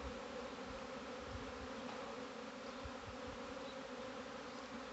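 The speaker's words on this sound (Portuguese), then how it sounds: "Olha que tamanho de enxame." A large swarm of Apis honey bees arrives at a house, filling the air with a dense, steady buzzing drone that holds at the same loudness throughout, with no speech.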